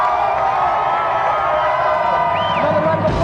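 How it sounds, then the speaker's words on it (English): A television game-show studio audience cheers and whoops loudly and continuously, a dense crowd roar with excited shouts rising above it. "Another round of applause there for David and Jason."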